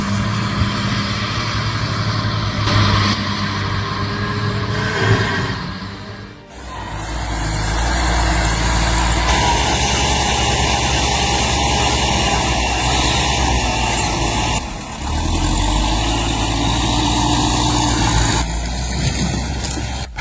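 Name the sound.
LKT-81 Turbo forestry skidder turbocharged diesel engine running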